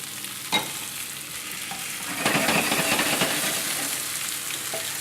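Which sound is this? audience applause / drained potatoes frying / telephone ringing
drained potatoes frying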